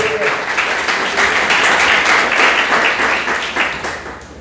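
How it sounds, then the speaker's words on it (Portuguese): A church congregation at a Sunday evening service applauds in a sustained, dense wash of clapping that swells in the middle and tapers toward the end. "Aplauda o nome do Senhor nessa noite, meus irmãos"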